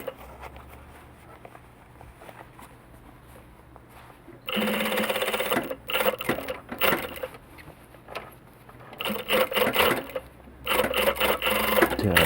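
Sewing machine stitching an elastic band onto the waistband of men's polo shorts, quiet at first, then bursts of rapid whirring stitching with short pauses between runs.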